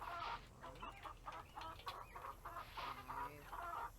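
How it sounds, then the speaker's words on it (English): A chicken in the Nancy Drew game Secret of Shadow Ranch clucks in a steady run of short squawks, fairly close and clear over a low background hum, with no talking. "You little psycho chicken."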